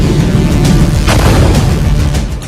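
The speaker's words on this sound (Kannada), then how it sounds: "ಏರ್ಪೋರ್ಟ್ಗಳ ಮೇಲೆ ಇರಾನ್ ಬಾಂಬ್ ದಾಳಿ" Heavy explosions from an Iranian bomb attack on airports, a loud rumbling boom with sharp bursts layered over a continuous low roar, no voices present.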